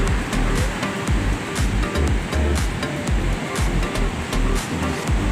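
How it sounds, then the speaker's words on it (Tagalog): Large ocean waves break and wash in continuous surges at Tondaligan Beach in Dagupan City, Pangasinan, a loud, close roar swelling and falling in a rolling rhythm with no talking. "Laki ng alon, no?"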